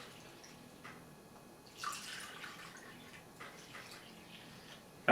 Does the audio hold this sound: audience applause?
no